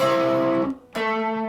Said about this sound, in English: we're going to just play a single note